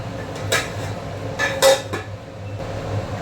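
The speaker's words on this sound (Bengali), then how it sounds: "ঢাকাটা খুলছি আমি" Lid lifted off a cooking pot of shrimp and potatoes, giving a few sharp metallic clanks and scrapes at close range, the loudest clatter near the middle, over a low background hum.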